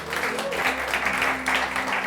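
Brief audience applause for a man named Dadang at a church gathering in Jakarta, steady clapping of moderate loudness with no voice over it.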